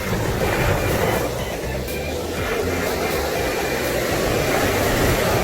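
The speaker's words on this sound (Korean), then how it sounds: "파도가 와서 지울 때까지 찍어보아요." Waves surging onto the East Sea coast in strong wind and rain from a typhoon, a loud continuous roar of surf close by with buffeting wind noise over it.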